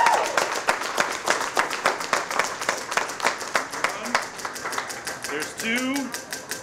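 Shoppers at a mall big spin wheel event clap in a quick, even rhythm to cheer on the spinner, with voices calling out over the claps near the end.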